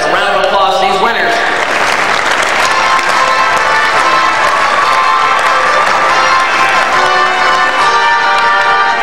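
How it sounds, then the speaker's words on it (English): Sustained applause mixed with cheering fills a large hall as an audience honors award winners at a 1997 state FFA leadership conference; the clapping is dense and loud throughout, with shouts rising above it. "Let's give these participants a round of applause"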